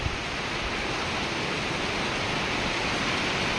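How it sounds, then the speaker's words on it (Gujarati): Heavy rain driven by strong wind keeps up a dense, even hiss with low gusty rumble underneath, unbroken throughout and fairly close, with no one speaking. "કેટલી જોરમાં આવી રહ્યો છે વરસાદ"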